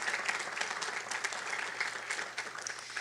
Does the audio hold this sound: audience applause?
yes